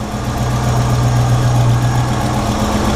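A 1956 Ford F100 pickup with a 390 FE V8 engine idles steadily and loudly close by, a continuous low rumble with a faint rhythmic pulse and no talk over it.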